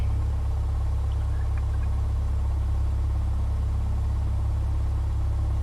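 A light aircraft engine idles steadily at 1,000 rpm in a flight simulator game, a continuous loud low drone with no change in pitch across the whole stretch.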